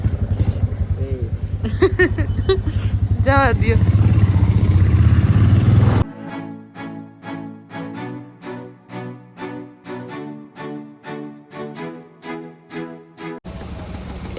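A motorcycle rides through city traffic in Ahmedabad. Talk fills the opening seconds, then a rhythmic, pulsing engine and road sound carries on steadily.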